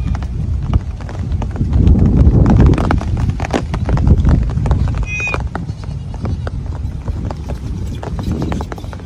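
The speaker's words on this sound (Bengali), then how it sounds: "বৃষ্টি আবার পূর্ব মুহূর্তে ছাগলগুলো তাদের বাড়িতে ফিরে যাইতেছে।" Goats walking home along a village road in a flood-hit area before rain, their hooves clattering in a quick, uneven patter close by over a steady outdoor background.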